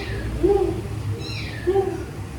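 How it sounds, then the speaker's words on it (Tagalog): A cat meows twice, two short mid-pitched cries about a second apart, close by and moderately loud over a steady low background hum. "Ito, ang pusa."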